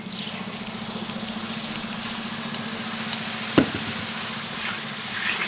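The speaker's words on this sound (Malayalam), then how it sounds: "നമ്മുടെ മസാലയൊക്കെ നന്നായി റോസ്റ്റ് ആയതിനു ശേഷം ഇതിലേക്ക് മിക്സിയിൽ അടിച്ചെടുത്ത 4 ടൊമാറ്റോ നമുക്ക് ഇതിലേക്ക് ഒഴിക്കാം" Blended puree of four tomatoes is poured into roasting masala in a hot pan, setting off a loud, close sizzle and bubbling fry with a sharp splash partway through, and no voices.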